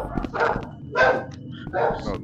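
Dog barking inside the Rec Room video game, SCP-173 map: three bursts of yapping barks about half a second apart, fairly close, with voices talking over and between them.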